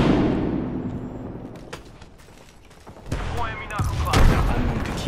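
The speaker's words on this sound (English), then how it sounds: "They're shooting at me." Bursts of automatic gunfire in the video game Apex Legends, loud and close, clustering in the final two seconds after a quieter stretch, with a voice talking over the shooting.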